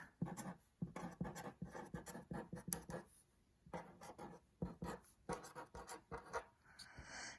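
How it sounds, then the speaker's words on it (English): Pen scratching quickly across paper while numbers are jotted down, a quiet, close run of short strokes and taps in irregular bursts with a brief pause partway through. "I'm going to write it real quick."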